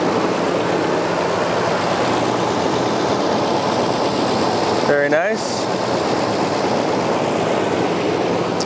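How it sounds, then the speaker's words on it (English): A steady low engine idle from a 2015 Nissan Titan Crew Cab V8 pickup truck rumbles continuously throughout, with someone speaking briefly partway through. "Look at the engine here."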